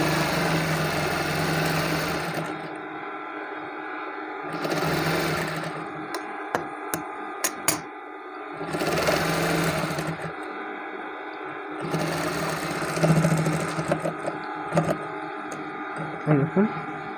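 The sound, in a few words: sewing machine stitching a kameez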